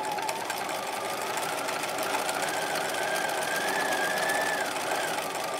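A sewing machine backstitches a seam on a bodice, running in a steady, fast mechanical whir close by, with a faint rising tone near the end and no talking.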